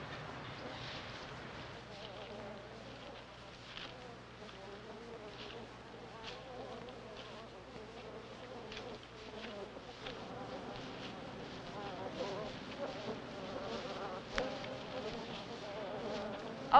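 A swarm of bees buzzes around wild beehives in a 1978 film, a dense, steady insect drone lasting throughout with some faint voices and low background rumble underneath.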